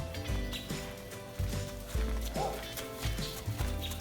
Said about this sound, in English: There goes Mr. Bill taking the horses out to their pasture for the evening